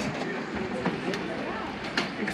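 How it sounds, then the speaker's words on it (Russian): A small excursion road train styled as a little steam locomotive rolls past on a street in Wissembourg, Alsace, France, a steady rumbling, clattering pass with light clicks, fairly close amid busy outdoor background noise. "Опять экскурсионный поезд."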